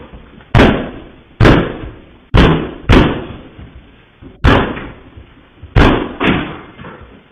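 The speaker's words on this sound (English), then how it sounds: "And then he's trying to kick the door in." Someone kicking at a door to break it in: six heavy booming thuds with rattling echoes, spaced unevenly about a second apart, loud and close.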